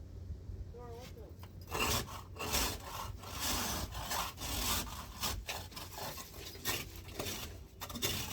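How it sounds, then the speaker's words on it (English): Frozen snow being scraped off a vehicle's windshield and windows after a snowstorm, heard as repeated rough, rasping strokes in an irregular rhythm, close and fairly loud, with a few brief voices in the background. "scraping all the snow, the frozen snow off the windshield and the windows of the vehicles"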